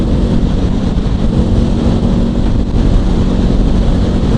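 Honda CL500 motorcycle cruising on a highway at around 120 km/h, engine drone mixed with heavy wind rush, the throttle eased open and closed, giving a steady loud roar with slight swells.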